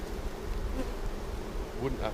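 A steady, close insect buzz from many honey bees around a hive fills the clip, with a few louder passes zipping by near the end.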